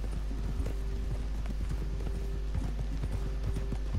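Galloping horse hooves in Red Dead Redemption 2, a steady fast clip-clop rhythm close up under a constant low rumble of game ambience, with no talk.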